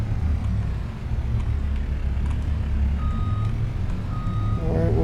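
A truck reversing into a farm garage gives off a loud, steady engine rumble, with repeated high reversing beeps cutting in toward the end.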